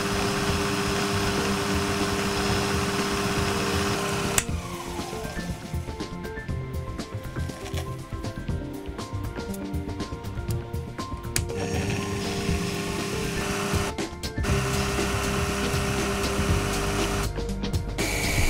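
A lathe runs steadily while drilling and reaming a silver steel cone runner, giving a continuous machine hum and whir with brief pauses and changes in tone throughout.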